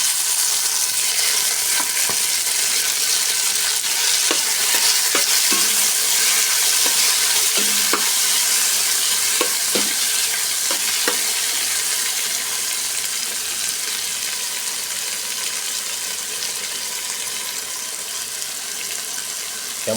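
Tomato and cabbage sauté in a hot pan for a cabbage dish with leftover chicken adobo, a continuous bright sizzle broken by occasional clinks and scrapes of stirring, close and steady with no talking.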